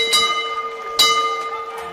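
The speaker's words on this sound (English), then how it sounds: "Bell will sound for the end of the round." Boxing bell marking the end of a round at a fight, two bright metallic rings about a second apart with long sustained tones, fairly clear over faint arena background.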